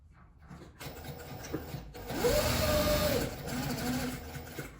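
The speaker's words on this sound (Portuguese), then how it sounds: "E já vou costurar em volta dele todo para prender esse fio." A sewing machine runs steadily, stitching around a handmade cuticle pliers holder: a continuous mechanical whirr with a fabric rub that grows louder midway, heard up close with no voices.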